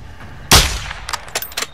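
A single sharp, loud sniper rifle shot in Call of Duty: Modern Warfare 2, cracking out abruptly and decaying quickly, followed by a few faint clicks and clinks.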